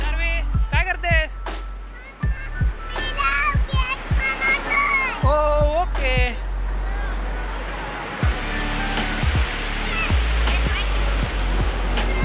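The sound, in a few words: sea waves at Malvan beach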